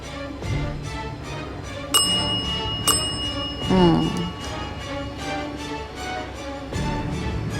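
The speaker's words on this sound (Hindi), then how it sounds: "आपके साथ अगर कोई भी धोखा हुआ हो तो ये घंटी 2 बार बजाइए" A bell rung twice in quick succession, two bright clear strikes that ring out over a murmur of voices and background chatter at a riverside location in Goa.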